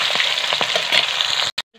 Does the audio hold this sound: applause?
no